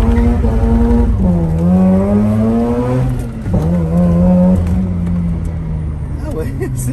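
A modified rear-wheel-drive car accelerates hard, its loud, close engine note climbing steadily in pitch, easing briefly, then rising again over a constant mechanical rumble.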